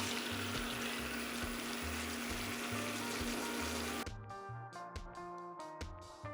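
Steady, dense sizzling of shrimp frying in a pan, loud and continuous, then it breaks into a quieter crackle with scattered pops and light clinks toward the end.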